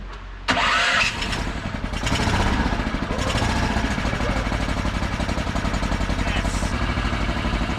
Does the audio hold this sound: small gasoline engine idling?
yes